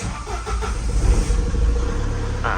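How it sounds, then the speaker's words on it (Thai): A Tata diesel truck, parked for a year, cranks and starts up, its engine catching into a steady low rumble that stays loud and close. "มาติดเครื่อง"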